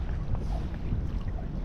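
Steady wind rushes and buffets across the microphone at the beach, a dense continuous roar with no voices.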